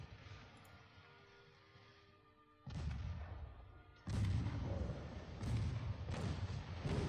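Naval gunfire and explosions in the warship battle game Ultimate Admiral Dreadnoughts: a low rumbling bed broken by several heavy booming blasts, each landing as a loud thud with a long rumbling tail.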